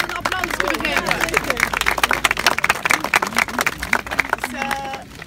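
Crowd applause at a Rotterdam commemoration of the forgotten bombing, steady outdoor clapping from a gathered group with murmuring voices mixed in, ending with a short tonal sound near the close.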